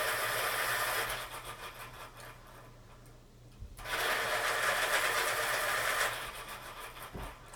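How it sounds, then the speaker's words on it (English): A pencil sharpener grinds Cra-z-art colored pencils in two whirring bursts, about a second and then a couple of seconds long, separated by a short quiet pause with faint handling. "Let's go ahead and sharpen them up."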